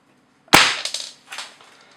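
An airsoft sniper rifle fires a single sharp, loud shot through a chronograph, and a short clattering rattle decays after it.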